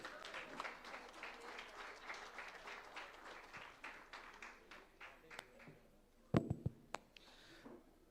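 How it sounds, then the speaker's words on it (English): Audience applause at a BBB business chapter event in Nelamangala, Bangalore, a sustained round of clapping from a crowd that thins out, followed by a few loud close knocks and taps near the end. "a huge round of applause"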